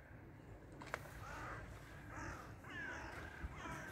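Crows cawing outdoors by the sea, several rough calls at a distance over a steady windy hiss.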